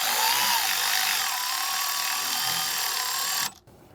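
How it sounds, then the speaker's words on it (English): A power tool drives an M14 socket to snug the rear brake caliper bolts on a 2022 Volkswagen Mk8 Golf R, a steady high whirring buzz with slight pitch wavers that cuts off abruptly near the end. "taking our M14 socket, just snugging them"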